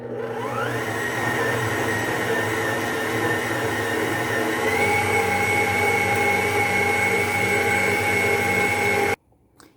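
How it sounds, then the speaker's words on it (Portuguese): Dough with flaxseed and olive oil beaten slowly in a bowl by an electric mixer, a steady loud motor whir with a pitch that climbs at the start and steps up midway, running alone until it cuts off abruptly near the end. "Vou bater mais um pouquinho para incorporar, bem devagar"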